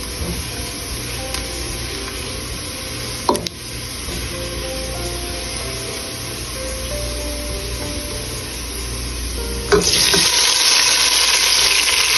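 Masala and tomatoes fry in oil in a pan on a gas stove for kaleji, a steady loud sizzle with an occasional clatter of a spoon, swelling into a brighter, harsher hiss near the end.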